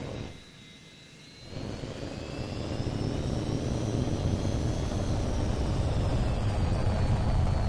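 A jet fighter's engine roars in a steady, loud wash during flight in the video game Tom Clancy's H.A.W.X. 2, dipping briefly before swelling into a sustained drone with a faint high whine on top.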